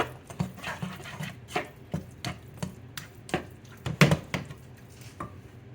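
A spoon scrapes and taps against a bowl, stirring lemon juice into a shrimp and crab burger mix, in a steady series of close, fairly loud knocks.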